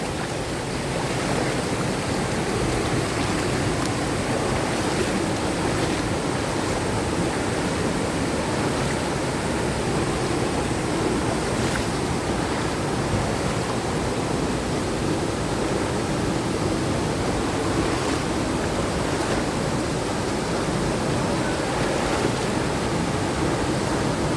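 Kongala waterfall, a roughly 70-foot cascade in Mulugu District, pours in a steady, loud, close rush of white water that holds constant for the whole stretch with no voices.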